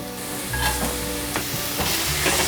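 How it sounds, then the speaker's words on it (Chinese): Carrots stir-fried in a wok crackle with a steady, close sizzle while a spatula scrapes and tosses them in a few irregular strokes, with no talking. "把红萝卜炒软"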